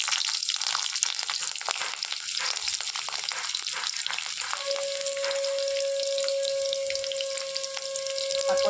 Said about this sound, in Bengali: এবার আমি কাঁচা লঙ্কা দিয়ে দিলাম